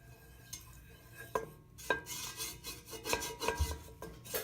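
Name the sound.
stirring sodium acetate solution until solid redissolves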